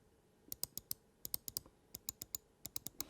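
Omron switches on a Mountain Makalu 67 gaming mouse click sharply and close up, in irregular bursts of single and paired clicks against near silence.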